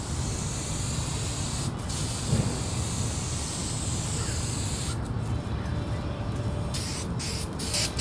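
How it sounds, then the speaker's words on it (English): Spray adhesive hissing steadily from a can while it is applied to the sagging headliner of a Jeep Cherokee, one continuous close spray with a few brief pauses near the end as the layers are overlapped. "just like spray paint, you're going to overlap your layers a little bit"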